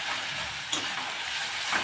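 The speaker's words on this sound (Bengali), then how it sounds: "মশলাগুলোকে ভালো করে কষিয়ে নেব।" Turmeric, chilli and ginger paste cooking in oil with a splash of water, a constant bright hiss with one sharp utensil tap and light stirring, close and steady.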